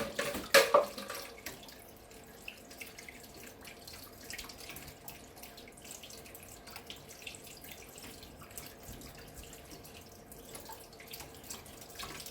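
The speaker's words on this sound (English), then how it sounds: "I'm just going to rinse my hands." Tap water runs as hands are rinsed under it, a few splashy bursts at first, then a steady soft trickle and patter continuing quietly, with no talking.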